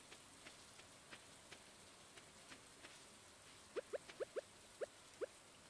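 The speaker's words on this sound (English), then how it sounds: "Oh, it's raining." Rain patters steadily in the Stardew Valley farming game, a soft hiss with faint drips, then a quick run of brighter, louder plinks near the end, without any talking.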